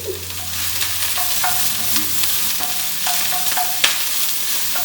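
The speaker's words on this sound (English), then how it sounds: "this sizzling is a little loud and probably annoying" Food sizzles and fries in a hot pan with a steady loud crackle, and a spoon stirs and scrapes against the pan several times over it.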